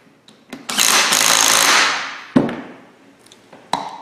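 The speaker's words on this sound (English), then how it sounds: "Torque them back to impact specs." On a Ford Ranger brake job, an impact wrench tightens the brake caliper bolts in one loud, rattling burst of just over a second, followed by two short, sharp hits.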